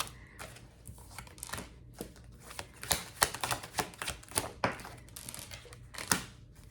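Tarot cards are shuffled in quick bursts of crisp riffling and soft slaps, with short pauses between them, close by and fairly quiet.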